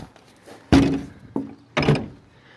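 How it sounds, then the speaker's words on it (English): A school bus door is pulled shut during a pre-trip inspection, giving three close, loud thuds: a heavy slam, then a lighter knock, then another firm slam. "shutting the door."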